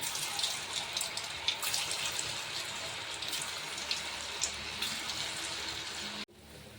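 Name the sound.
manchurian bottle gourd balls frying in hot oil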